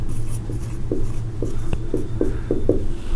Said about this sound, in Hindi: यहां पर हम लिखेंगे प्रूफ